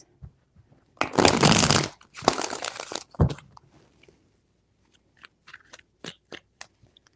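A deck of tarot cards shuffled briskly in two dense bursts, followed by a few sharp card snaps and light taps in an otherwise quiet room.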